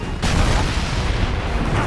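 A heavy cannon booms in the Western shooter Call of Juarez: Bound in Blood, a dense, loud low-end blast that opens abruptly and rumbles on amid ongoing battle noise.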